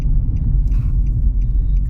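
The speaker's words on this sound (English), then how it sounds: "I'm gonna let this car pass" A car passes nearby on the road, a loud low rumble that swells and holds steady for a couple of seconds with no talking over it.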